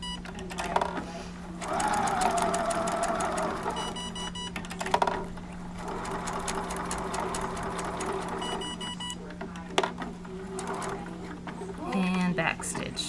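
A sewing machine set to its smallest stitch sews a paper piecing block, running in steady rapid bursts with brief pauses, close and clear, with a person talking over parts of it.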